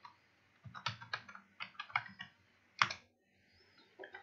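Close computer keyboard typing in irregular bursts of crisp clicks, with one sharper keystroke near the end, alone without talk.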